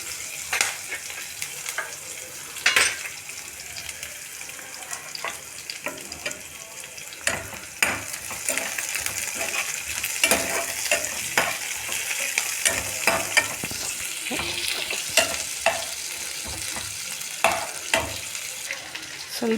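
Chopped garlic frying in a hot pan, a continuous sizzle broken by frequent scraping strokes of a spoon as it is stirred, fairly close and moderately loud, with no speech.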